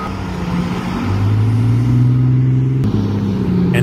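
A Komatsu HD785 haul truck works beside a giant excavator on a mining site, its engine giving a loud, steady low drone that rises partway through as it powers up, with a brief knock near the end.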